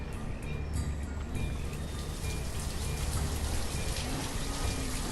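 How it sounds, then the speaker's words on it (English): Steady rain in the city-building video game Banished, a dense, even hiss of falling drops continuing without a break, fairly loud and with no voices over it. "So I'm gonna wait for the end of the rains"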